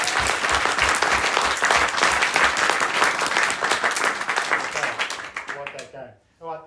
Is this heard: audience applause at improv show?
yes